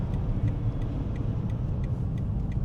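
Road noise inside a Toyota RAV4 while driving, a loud steady low rumble from the tires filling the cabin, with faint light ticking above it.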